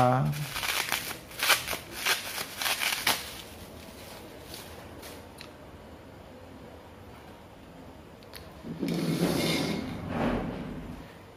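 A pack of Bicycle-style marked playing cards from China being handled, with a run of quick papery riffles and snaps early on and a softer rustle near the end.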